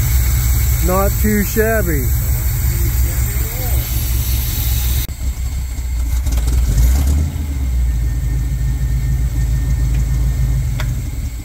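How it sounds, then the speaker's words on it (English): A 1970s-era squarebody pickup's engine, revived after sitting parked for 19 years, runs at a steady, rumbling idle throughout, loud and close, with a person speaking briefly near the start. "carburetor has helped with the idle. It stays running now."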